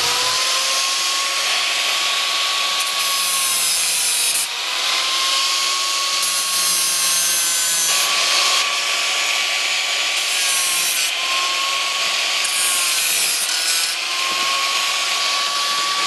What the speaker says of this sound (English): I'm going to be brutal and grind them out